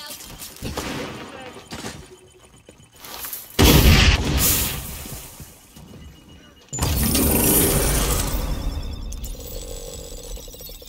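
A frag grenade goes off in the XDefiant shooter game with a heavy, close boom, followed by another loud, sustained blast amid gunfire-like clatter. In-game voices are heard in the background.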